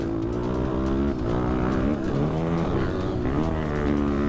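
Slam and GasGas dirt bikes race with engines screaming hard at high revs, a loud continuous droning buzz that rises and falls in pitch as the riders shift and push, no talking.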